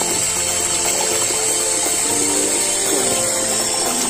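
Steady rush of water gushing from a 1hp Goulds submersible pump, a continuous loud broadband wash that runs unbroken throughout with no voices over it.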